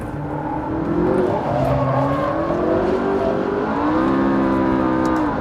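A McLaren 650S sports car driven hard on a race track, its engine note climbing and dropping continuously through the gears, loud and close throughout with no voices.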